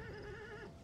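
Horses neighing amid a Total War Rome 2 siege battle, a continuous wavering whinny held for almost a second, loud against dense battle noise with faint hoof clatter beneath.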